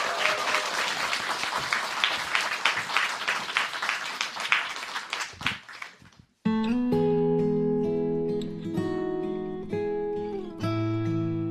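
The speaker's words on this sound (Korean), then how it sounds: "박수 청해 듣겠습니다." A radio studio audience applauds for about six seconds, a dense steady patter of many hands that fades out, before a piano-backed song begins and carries on to the end.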